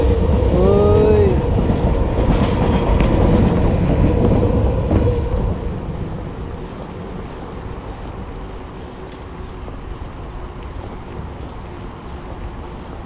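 Singapore MRT train passing close by, a loud rumbling rush with a brief high squeal near the start, fading over several seconds into a lower steady hum with wind buffeting.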